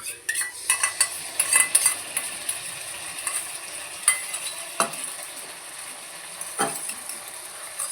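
Chilli paneer sizzling in a pan on a home stove while a utensil scrapes and stirs it, giving a steady hiss broken by irregular metallic clinks and scrapes, with no talking.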